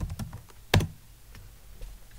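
Quiet keystrokes tap out a command on a computer keyboard, a quick run of light clicks ending in one sharper, louder keypress like Enter, then a few faint scattered taps.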